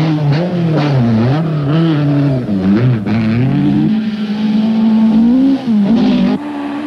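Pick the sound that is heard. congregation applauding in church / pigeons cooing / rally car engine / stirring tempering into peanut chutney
rally car engine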